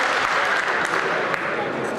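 Applause fills the Ukrainian parliament, the Verkhovna Rada, as a steady, dense wash of clapping from a large chamber that runs unbroken and fairly loud throughout, with voices mixed faintly underneath.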